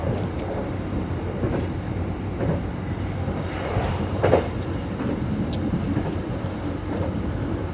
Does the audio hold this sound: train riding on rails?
yes